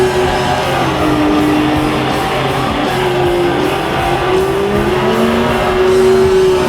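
A Honda S2000 race car in the Gran Turismo 2 video game drives at speed, its engine tone droning and shifting steadily with hints of tire squeal, loud and continuous with no talk.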